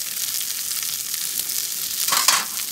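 Breaded sardine fries in oil over medium-low heat while hot oil is spooned over its head, giving a steady hiss with a brief louder burst of spluttering near the end.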